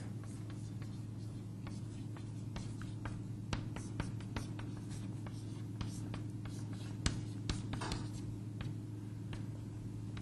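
Steady scratching and tapping of a pen or marker writing on a board during a bidirectional path tracing lecture, with a constant low hum of the room behind it.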